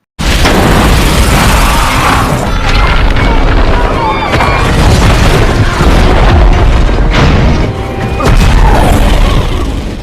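Film scene from Geostorm: loud, booming explosions and road cracking, crashing debris rumbling continuously, with cracking and smashing noises layered over a heavy low roar.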